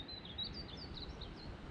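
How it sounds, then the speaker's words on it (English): Painted bunting calling from a bridge at a coastal state park near the beach, a series of faint, thin high chirps over steady low wind and background rumble. "That bird right there was a painted bunting."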